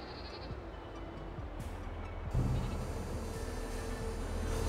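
Goats bleat in Farming Simulator 22, with several short calls scattered over a steady farm-game background hum that gets a little louder partway through.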